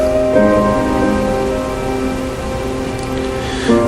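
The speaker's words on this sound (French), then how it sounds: "Il pleut et il fait froid." Steady rain falls in a continuous wash, close and fairly loud, with no voices over it.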